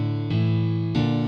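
Two sustained synth grand piano chords with no EQ applied, the second entering partway through, boomy and heavy in the bass, ringing steadily without any voice.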